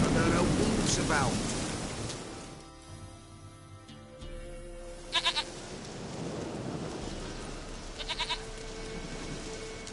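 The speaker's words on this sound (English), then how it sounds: "Goat of mine, dearest, sweetest goat." In The Witcher 3, a goat bleats a few times near the start over game ambience, followed by quieter rumbling background and short bright bursts later on.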